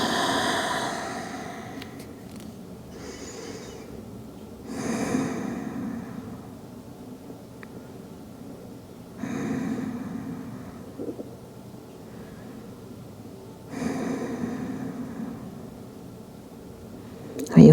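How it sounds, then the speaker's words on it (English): Slow, deep breaths during a yoga session: long airy inhales and exhales come in a steady rhythm about every four to five seconds, close and soft, with calm instruction spoken between them. "And breathe."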